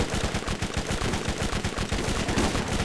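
Dense, rapid automatic gunfire in the Borderlands video game, a continuous rattling stream of loud close shots with no pauses.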